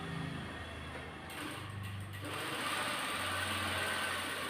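Sewing machine stitching a slit in fabric: a steady close mechanical whir that runs in short stretches, pauses briefly and then resumes, with no talking.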